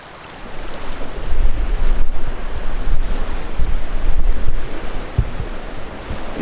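Strong gusty wind buffets the microphone over open water on a fly-fishing trip for Arctic char in northern Norway, with a continuous low roar and waves washing in the background.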